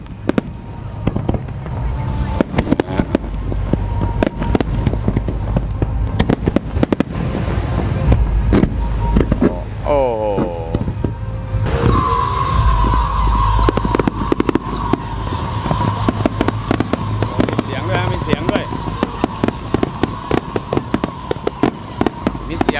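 Fireworks bursting at a festival in Pattaya, Thailand, with repeated sharp cracks and pops through the whole stretch, a rising whistle partway in, and people talking over the din.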